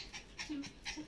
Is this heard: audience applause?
no